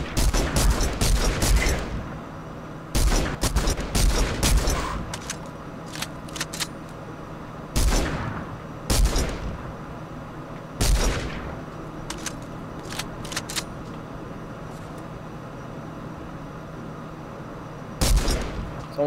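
Gunfire in a video game, sharp single shots and quick bursts scattered across the clip over a quiet background hum.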